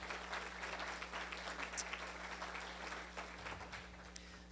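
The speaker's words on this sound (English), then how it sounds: "Let's give our backbone team a round of applause." An audience at the Marin Promise Partnership Summit applauds, a steady patter of many hands at moderate distance over a low constant room hum, fading slightly toward the end.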